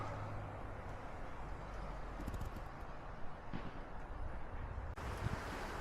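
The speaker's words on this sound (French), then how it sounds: "il y a beaucoup de vent" Strong wind blows across a hillside campsite near the Gorges de Galamus, buffeting the microphone in a constant roar with gustier bursts, no voices present.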